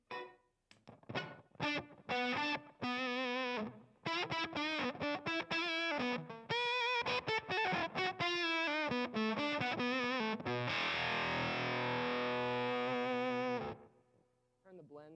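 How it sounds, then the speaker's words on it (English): Electric guitar through a Mythos fuzz pedal with fuzz dimed and blend fully up, thick distorted fuzz and octave tones played live in a music store, loud riffs ending in a sustained ringing chord that fades. "It's all the fuzz and octave sounds."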